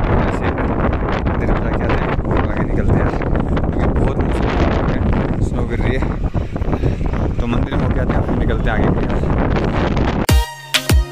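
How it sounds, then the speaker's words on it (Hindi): Strong wind roars and buffets continuously at Taglang La pass in Ladakh, loud and close, blasting across the microphone, then cuts out abruptly near the end. "बहुत ज़्यादा तेज़ हवा चल रही है"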